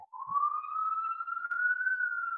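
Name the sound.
siren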